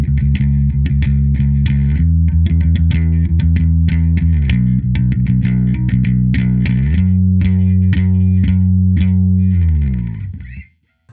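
Bass guitar plays a syncopated riff, built on added chord tones along the third string, with a distorted, chorused tone; loud, sustained low notes shifting in steps, played alone without talk.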